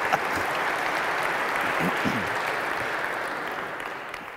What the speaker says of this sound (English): Yeah, you better clap for that.